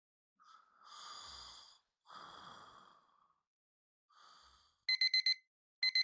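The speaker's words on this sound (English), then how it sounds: "I have to listen to those alarms." Alarm in the video game Deadly Premonition 2: after a few soft breathy sounds, a bright electronic beeping alarm rings in rapid pulsed bursts near the end, then briefly starts again.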